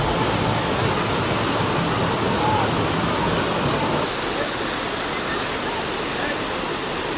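Falling water at a waterfall in Majayjay, Laguna roars as a steady, dense broadband rush, loud and continuous with no talk.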